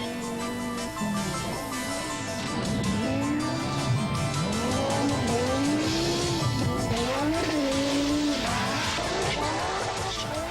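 An Audi Quattro rally car sliding through corners at Pikes Peak, its engine repeatedly revving up and down in sweeping pitch swings with tire squeal, loud and close, no talk.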